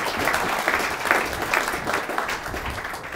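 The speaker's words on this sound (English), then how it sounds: "Give them a big round of applause." An audience at an entrepreneurship talk breaks into a round of applause, a full burst of many hands clapping at moderate volume that tapers a little toward the close, with no voices over it.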